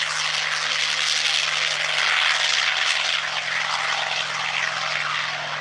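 A Hawker Sea Fury, a 3000-horsepower propeller warplane, roars on takeoff at a French air show, its engine drone loud and sustained with a steady low hum beneath a broad rushing roar.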